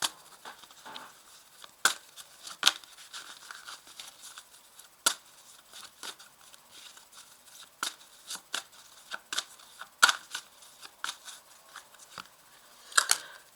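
Tarot cards are shuffled and drawn in a quiet room, giving sharp, scattered riffling snaps and soft slides at irregular intervals, with no talk.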